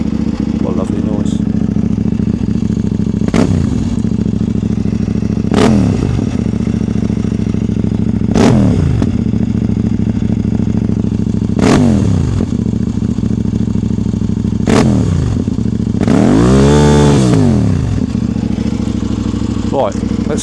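A Kove 800 X Pro motorcycle engine runs at a steady idle close by, broken by several sharp throttle blips and one longer, rising and falling rev near the end.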